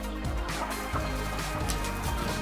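Kadaknath chickens at a poultry farm make a busy, overlapping mix of clucks and gobbling calls, loud and close, continuing throughout.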